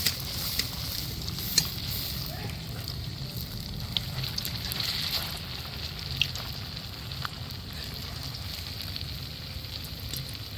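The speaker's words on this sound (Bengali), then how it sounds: "আস্তে আস্তে আমি লাল লাল করে ভেজে নেব" Kakrol and prawn fritters (Bengali chingri bora) fry in hot oil over medium heat, giving a steady soft sizzle with scattered small pops and no talking.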